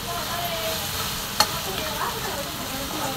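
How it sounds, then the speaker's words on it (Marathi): Ridge gourd frying in a pan while being stirred, with a steady sizzle and scraping stirs plus one sharp clink of the utensil, close and fairly loud. "दोडका टाकून घेतले मी आणि छान असं मिक्स केले"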